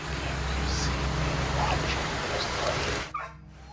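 A dog whines and whimpers with high yips over a steady low rumbling background, close and fairly loud, until the noise cuts out abruptly near the end.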